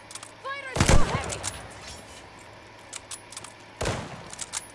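Heavy gunfire in Call of Duty: Vanguard, two loud sharp bursts of shots separated by a few seconds, with lighter scattered pops and whizzing sounds in between.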